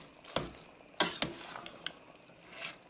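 Spaghetti noodles simmer in sauce in a pan under a soft bubbling sizzle, punctuated by several distinct clacks and scrapes of stirring at irregular intervals, close and moderately quiet.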